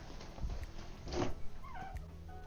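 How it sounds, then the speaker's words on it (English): A cat at the door gives a few faint meows and rustling sounds, mixed with scuffles and a short burst of nearby noise, with no talking. "Hold on, let me let my cat in."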